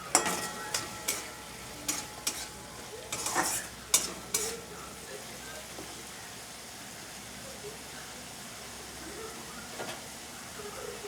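Prawns fry with spice paste in a pan for a curry, with a few sharp stirring clicks and spatters early on over a quiet, steady low sizzle.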